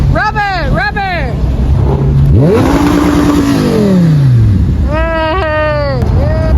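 A Ford Mustang GT500 at a supercar meetup revs hard several times, its loud engine rising and falling in sharp bursts close by, with spectators shouting and cheering over it.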